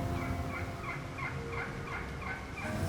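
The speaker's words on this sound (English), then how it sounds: "It definitely is a gobbler." A wild turkey gobbler gobbles repeatedly in a field in western Kentucky during fall season, a rapid rattling series of calls repeating steadily and sounding fairly distant over faint outdoor noise.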